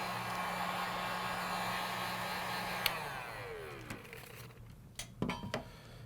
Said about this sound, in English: heat it up with the hairdryer or hot air gun